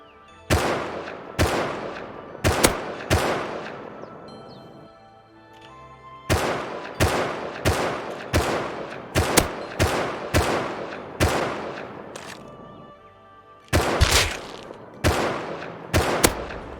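Gunfire in the survival game Rust comes as sharp, loud single shots in clusters of three to five, separated by short pauses, with a longer gap near the middle and a final burst at the end.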